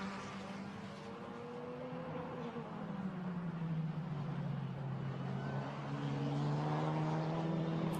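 A Formula Renault Eurocup single-seater racing up the hill toward the chicane at the Nurburgring, its engine droning steadily with rising and falling pitch as it passes, loud and continuous throughout.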